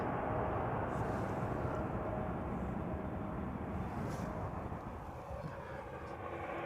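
An airplane taking off at Amsterdam Schiphol Airport, a steady broad engine roar heard from a distance that stays constant and then slowly fades.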